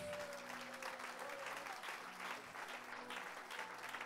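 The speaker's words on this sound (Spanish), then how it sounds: "Dele un aplauso a Jesús." Sustained applause from a church congregation, steady and fairly full throughout, with a faint voice in the background.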